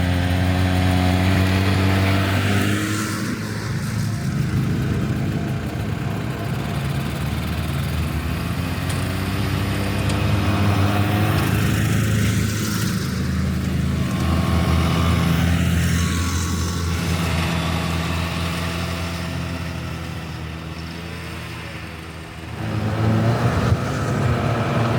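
A Buran snowmobile engine idles and then pulls away, a loud, steady mid-pitched drone that swells and revs through the stretch and dips briefly near the end.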